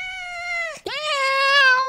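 A human voice imitates a cat's drawn-out yowl, a wavering tonal wail that breaks off briefly near the middle and then resumes louder and longer, heard alone and close.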